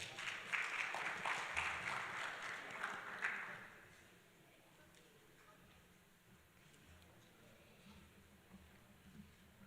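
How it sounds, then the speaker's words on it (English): Audience applause at a governance forum on unconstitutional changes of government, welcoming a session moderator; clapping fills the first few seconds, fairly soft and distant, then dies away into quiet room noise. "A round of applause for her."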